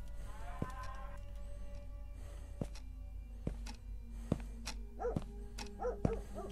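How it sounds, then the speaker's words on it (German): A dog barks outside in the horror game Iblis, a series of sharp, fairly distant barks and yips repeating at irregular intervals over a low, quiet background hum. "Der Hund weiß Bescheid da draußen"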